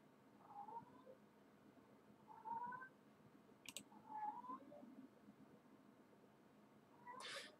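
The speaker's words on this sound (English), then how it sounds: "Cat's being very vocal right now." A domestic cat that has just caught a mouse meows repeatedly, with three or four rising calls spaced a second or two apart. The calls are faint and indoors, with a few soft clicks between them.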